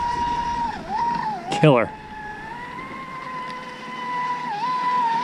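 ProBoat SonicWake V2 6S deep-V RC boat running on water, a steady high electric whine with a pitch that dips and rises through wide turns, a brief burst of spray noise partway, a voice speaking over it.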